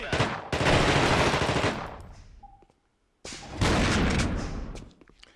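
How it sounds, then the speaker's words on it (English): Heavy weapon fire from The Thing video game, two sustained loud bursts of rapid shots separated by a near-silent pause, close and dense, with a faint mechanical click between. "Grenade launcher."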